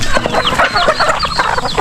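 Farm chickens cluck busily and continuously at close range, overlapping short calls and squawks from several birds with no talk.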